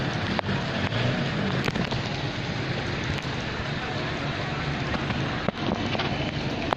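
Fast-flowing floodwater surges past after heavy rain, a steady, dense roar of rushing water filling the scene with a few sharp knocks and splashes; a voice is faintly present.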